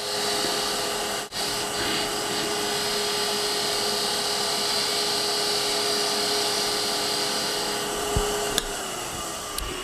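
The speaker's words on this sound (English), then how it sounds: "So we'll do a bevel rubbing cut on both of these sides" A Hunter Hercules woodturning tool makes a bevel rubbing cut on spinning wood on a lathe, giving a steady, close hiss and whir that continues evenly throughout with a couple of brief catches.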